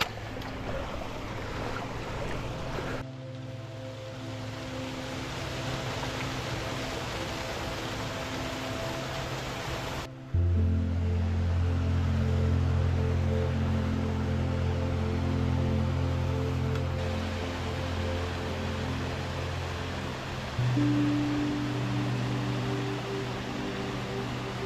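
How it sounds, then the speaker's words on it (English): A small waterfall on a Lake District beck gives off a steady rushing white-noise hiss, with a low hum and abrupt level shifts in the background, no voices. "there's a nice little waterfall just ahead of us"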